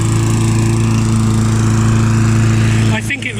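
A Mountfield M4 lawn mower engine runs loud and close with a steady droning hum and strong harmonics, then briefly dips and bogs near the end as if loading up on grass.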